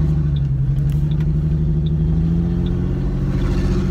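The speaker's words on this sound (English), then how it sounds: "I smell a whole bunch of gas and that's my misfire." A Ford Mustang engine idles with a misfire, a loud steady low rumble with an uneven, stumbling pulse running throughout, close up and alone without talk.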